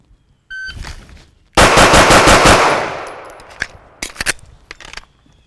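Gunfire at a shooting range during a first-shot training drill: a single sharp shot, then a rapid burst of loud, close reports that rings out, followed by a few scattered clicks and shots.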